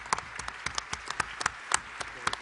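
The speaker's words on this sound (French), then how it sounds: "on peut applaudir" Sparse applause from a conference audience, individual claps ringing out irregularly at a moderate distance, fairly quiet, with a soft room hum beneath.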